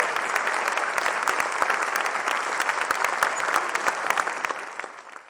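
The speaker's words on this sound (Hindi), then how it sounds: "जोरदार तालियों से मंच पर आमंत्रित करूंगी।" Loud, sustained applause from an audience at a Hindi kavi sammelan poetry event, dense clapping welcoming a poet onto the stage and running steadily throughout before easing slightly at the end.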